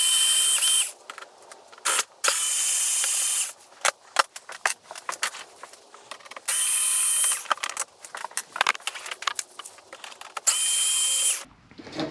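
Power driver fitted with a T20 Torx bit runs in repeated whirring bursts while backing screws out of a Can-Am Outlander instrument panel bezel, with short pauses and clicks between runs, close and fairly loud.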